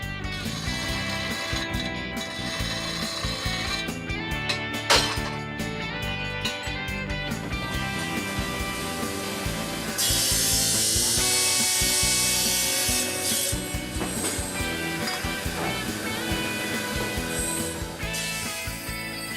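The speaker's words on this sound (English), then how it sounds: "it's trimmed by hand or with a diamond sole" Lead crystal being trimmed by hand on a diamond grinding wheel, a continuous harsh rasping grind that holds steady throughout, with louder, brighter stretches where the glass presses harder against the disc.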